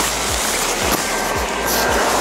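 The blower motor of an inflatable panda mascot suit runs with a steady, loud broadband whoosh and hum, with soft low thumps recurring about every half second.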